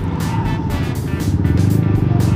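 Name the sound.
car traffic on road near Subic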